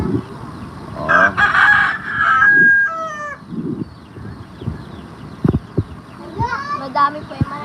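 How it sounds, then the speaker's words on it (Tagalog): Rural chickens clucking, with a rooster crowing loudly nearby in a few drawn-out calls, mixed with scattered knocks and rustling in the yard. "Tingnan natin yung mga chicken."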